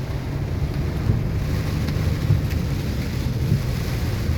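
A heavy rainstorm with wind roars steadily, its dense rumbling low end suggesting thunder and gusts buffeting the microphone, loud and continuous with no talking.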